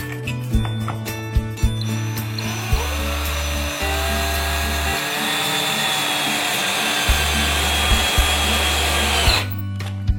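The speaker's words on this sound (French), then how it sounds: "Donc on va fixer vis, visseuse." A cordless screwdriver drives screws into a wooden pallet slat, with several loud, close whirring bursts whose pitch rises and falls as each screw bites and seats, separated by short pauses and clicks.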